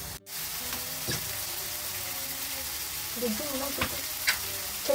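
Goat liver kaleji frying on a tawa pan, a steady close sizzle with a brief dropout near the start and scattered clinks and scrapes of stirring.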